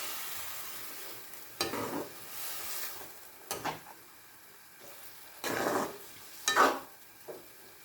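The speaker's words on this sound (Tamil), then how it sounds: "இதை இப்போ நம்ம வந்து ஊற்றிக்கலாம். ஊற்றிட்டு நல்லா கிண்டி விட்டுக்கோங்க." Thick milk poured into carrot halwa in a pan and stirred in, heard as several scraping, sizzling bursts of spoon against pan separated by brief quieter gaps, close and without talk.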